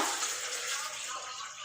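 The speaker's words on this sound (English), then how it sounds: "Add water to it, cover the coconut meat, then blend." Water pours steadily into a blender over chunks of coconut meat, a continuous close splashing rush that holds at an even level throughout.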